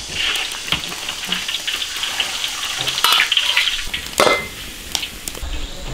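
Fish deep-frying in a wok of hot oil until golden, a loud steady bubbling hiss that fills the whole stretch, with occasional sharper crackles and spits rising above it.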